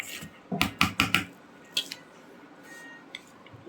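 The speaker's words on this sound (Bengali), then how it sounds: "ময়দাটা যে ভালো করে এভাবে মিশিয়ে নিতে হয়।" Cake batter being mixed by hand as flour is folded in, with a quick run of four soft, wet squishing strokes close by, then a couple of fainter scrapes and taps of the utensil against the bowl.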